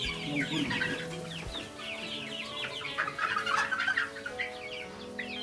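A flock of Pradu Hang Dam (KKU55) black-tailed chickens raised on a farm clucks and chatters continuously, many overlapping calls at moderate distance with some low farm noise underneath.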